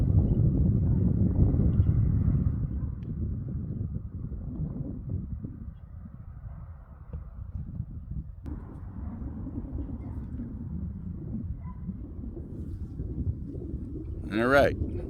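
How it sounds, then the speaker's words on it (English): Steady wind gusting across an outdoor microphone on a cool day of about 52 degrees, a continuous low roar that is strongest at the start and eases to a softer buffeting, with a brief squeal near the end. "As you can see, that wind is blowing."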